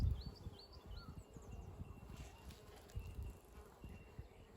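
Faint honeybees hum and buzz around a Kenyan top-bar hive during a varroa inspection in a quiet setting, with soft bumps and handling noises underneath and a few distant bird chirps.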